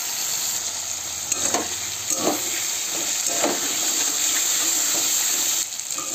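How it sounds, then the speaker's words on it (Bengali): Taro and potato fry with spice paste in a pan: a loud, steady hiss and sizzle with a few spaced stirring scrapes, heard close and without voices. "মশলাটা দিয়ে কষিয়ে নেবো এবার।"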